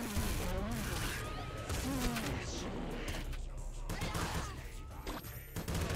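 Rapid bursts of microgun fire rattle through Nuclear Throne gameplay, dense crackling shots and small impacts layered over busy game effects at moderate volume.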